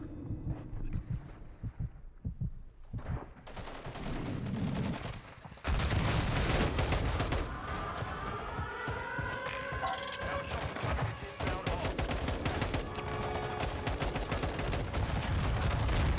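Rapid gunfire and heavy explosions from the video game Modern Warfare 2, loud and dense, with bursts of shots, booming blasts and a sustained roaring layer of combat noise.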